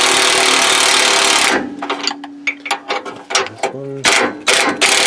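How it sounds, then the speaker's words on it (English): A wrench turns a locking nut on a Nissan Titan transmission mount, giving a quick run of close ratcheting clicks with short metallic bursts after a loud noisy start, and a brief spoken word in between. "this one definitely is going to spin, so we're going to put a wrench"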